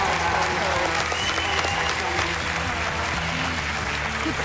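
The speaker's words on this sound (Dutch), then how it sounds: "mag ik ook een fantastisch applaus voor Lola en Anaïs?" A studio audience at The Voice Kids TV talent show applauds contestants with sustained, dense clapping and cheering, while voices talk faintly underneath.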